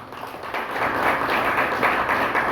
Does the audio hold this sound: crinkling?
no